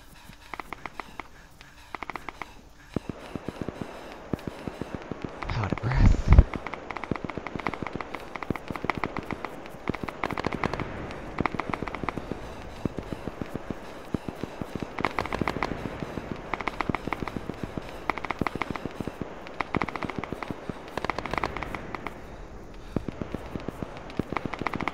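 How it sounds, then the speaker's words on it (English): Distant gunfire from enemies practicing at a shooting range in a video game, irregular bursts and single cracks scattered over a low background, with one sharper, louder shot near the start. "you can hear the gunfire"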